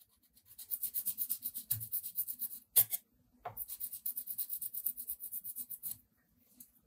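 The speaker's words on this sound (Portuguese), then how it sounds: "a gente faz esse movimento aqui para eliminar os arranhões que a lixa causou" A Fretalizer tool rubs back and forth along guitar frets to clear sandpaper scratches, giving quick, close, rhythmic scraping strokes in two bursts with a brief pause between them.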